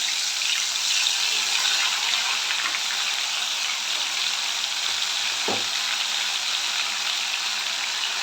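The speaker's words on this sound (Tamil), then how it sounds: "இப்போ இப்படியே வந்து கொதி வரணும் கொதி வந்து சல்ல சல்ல சல்ல சல்லன்னு அந்த சத்தம் வரும்" Homemade herbal hair oil simmers in a pan on a low flame, giving a continuous close hissing sizzle with a few soft pops and bubbles.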